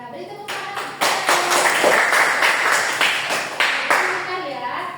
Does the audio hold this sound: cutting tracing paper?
no